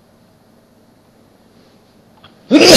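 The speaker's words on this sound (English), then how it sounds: "Oh, fun fact about sneezing." A single loud, close human sneeze bursts out abruptly at the end after near silence, sharp and breathy.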